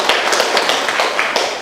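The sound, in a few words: children clapping for classmate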